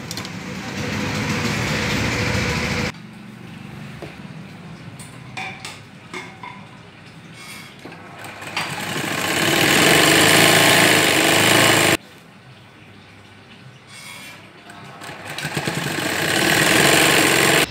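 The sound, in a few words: sewing machine stitching a child's Afghani salwar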